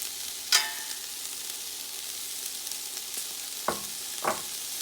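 Vegetables stir-frying in a pan for mixed fried rice, a faint steady sizzle broken by three sharp utensil clinks and scrapes, no talking.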